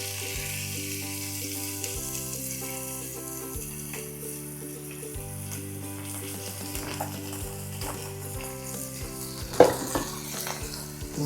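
Onions sizzle and fry steadily in a pan for beef patties, a continuous crackling hiss with a few louder spatters near the end, no voices.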